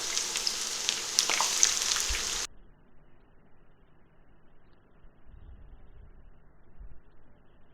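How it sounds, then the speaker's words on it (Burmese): Onions fry in hot oil for crispy beef floss, a bright, hissing sizzle for a couple of seconds that stops suddenly and leaves only low, quiet background rumble. "ကြက်သွန်နီကြော်လိုက်ပါမယ်"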